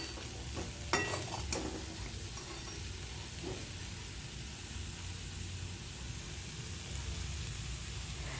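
Kovakkai (ivy gourd) fry being stirred in a pan, with a dense, even hiss of frying resembling rain and a few brief spatula scrapes near the start, then a steady, fairly quiet sizzle.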